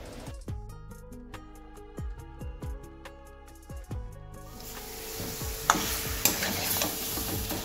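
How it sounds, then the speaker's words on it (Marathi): Ingredients for a spicy dok fish curry mixed in a pan, ringing metallic scraping strokes at first, then a steadier close sizzle of frying with a few sharp clinks. "त्यांना व्यवस्थित मिक्स करून घ्यायचे।"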